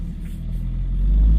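A Jeep Cherokee engine revs steadily while towing a heavier Chevrolet Tahoe, a low rumbling drone that builds gradually in loudness and stays close throughout.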